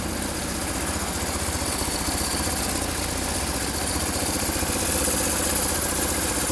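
A BMW R1100RS motorcycle with about 17,000 km idles steadily up close, a continuous, even engine rumble with no voices over it.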